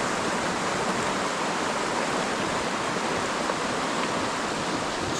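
A creek's water rushes steadily and continuously, a broad even wash of sound with no voices and no breaks.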